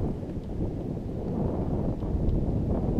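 Steady wind gusting over open water on Lake St. Clair during cold-weather pike fishing from a boat, a continuous low rushing roar buffeting the microphone with no talk.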